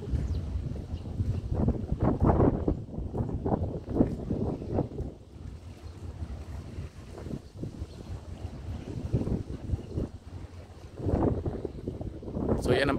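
Passenger ferry crossing the harbour from Kowloon, Hong Kong: a steady engine rumble with water wash and gusts of wind buffeting the microphone, fairly close throughout.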